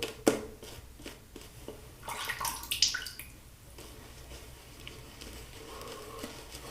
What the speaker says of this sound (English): I'm going to add just a touch of water.